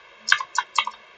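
Three short bursts of keystrokes on a computer keyboard, close and fairly clear, separated by brief pauses, with no talk over them.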